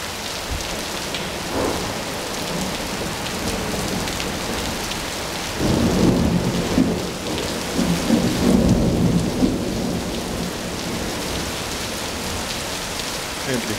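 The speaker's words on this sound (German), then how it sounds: "Endlich regnet es mal." Steady rain falls during a nighttime thunderstorm in the Oberallgäu, a continuous hiss with thunder rumbling and swelling midway, and faint voices briefly in the background.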